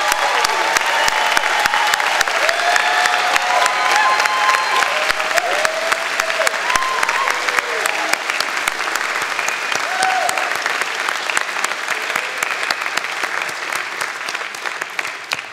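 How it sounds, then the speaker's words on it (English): Sustained applause from a large audience at a university convocation ceremony, dense and even clapping that fills the whole stretch at steady loudness with faint voices mixed in. "Please join me in a round of applause."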